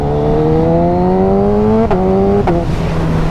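A high-performance motorcycle accelerates hard, its engine note rising steadily before two sharp quick-shifter upshifts cut in and the revs drop and climb again, loud and close.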